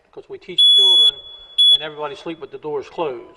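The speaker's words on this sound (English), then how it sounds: "they teach now to hear the beep where you sleep." A smoke detector gives two loud, shrill electronic beeps in a short burst, heard indoors while someone talks over and around them.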